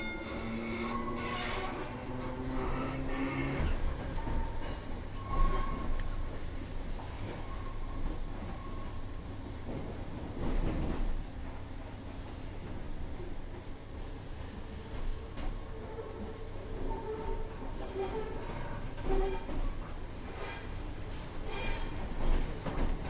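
A train on the Glasgow Central to Lanark line rumbles along the rails with steady rolling noise, periodic clunks over joints and occasional metallic squeals and rattles, heard from inside the carriage.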